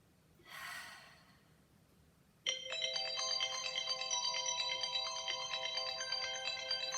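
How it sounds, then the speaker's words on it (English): A mobile phone ringtone cuts in suddenly partway through a quiet yoga session, a bright melodic tone ringing on steadily to the end, preceded by a soft audible breath or sigh. "Here I thought I put my phone on silence. I guess not."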